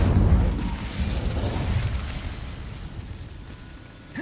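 Incendio fire spell cast in Hogwarts Legacy: a soft whooshing burst of flame at the start that fades into a low crackling rumble, fairly quiet, with no talking.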